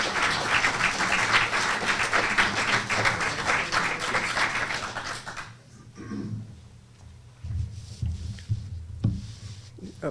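Audience applause welcoming a presenter to the front of a museum lecture hall, a dense wash of clapping for about five seconds that ends abruptly, followed by quieter room sounds and a few scattered knocks and shuffles.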